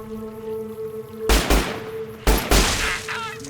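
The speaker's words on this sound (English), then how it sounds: "now we're being shot at" Gunfire in the Fallout: New Vegas video game comes as two loud, sharp bursts of shots about a second apart, each ringing out briefly over a quiet background hum.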